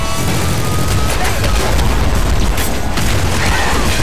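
A nuke launcher explosion in the video game Nuclear Throne, producing a loud, continuous booming roar layered with crackling blasts and gunfire-like bursts for several seconds.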